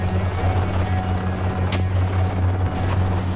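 A helicopter flying during a wild hog hunt gives a steady, loud low drone with a constant rotor and engine hum, close and unbroken, with brief higher whooshes passing over it.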